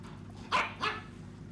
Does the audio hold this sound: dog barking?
yes